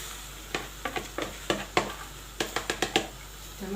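Green fava beans frying with tomato juice are stirred in a pan, a soft sizzle beneath a series of quick scraping strokes in irregular bursts, close and fairly quiet.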